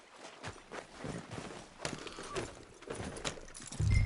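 Horse hooves clip-clop at a steady walk in Red Dead Redemption 2, the rhythmic hoofbeats close and moderately loud, with a low thump at the very end.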